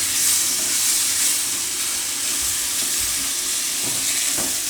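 Tomatoes with red chilli and spices fry in a pan for a green chickpea and tomato curry, a steady close sizzle with soft scraping stirs and a couple of low knocks, unbroken by any voice.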